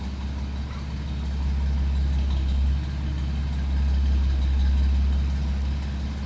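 A 1948 Plymouth Special Deluxe sedan engine idles steadily and close by, a low, even rumble with a slight swell partway through and no talking.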